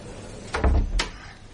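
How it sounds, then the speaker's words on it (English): A door is shut indoors with two quick close thuds and a soft knock, brief and moderately loud against a quiet room. "I'll shut the door, Miss Parker."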